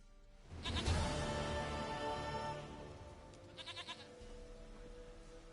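A goat bleats loudly in The Witcher game, one long wavering cry up close followed by a few shorter quavering bleats, alone without talk.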